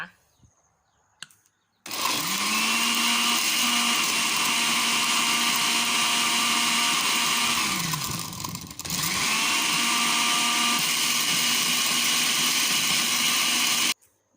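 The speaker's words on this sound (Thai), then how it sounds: "ตอนนี้เราก็ปั่นเสร็จแล้วนะคะ" An electric blender runs steadily for about twelve seconds, grinding fingerroot (krachai) for juice. The motor is loud and close, dips briefly mid-run, then resumes before cutting off.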